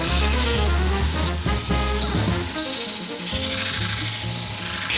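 A modified surface grinder works a piece of 1080 steel, giving a loud continuous machine drone with a harsh grinding hiss on top that briefly dips and resumes without any voices.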